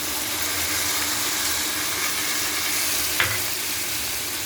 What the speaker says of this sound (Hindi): अब मैं इसमें डाल रही हूँ टमाटर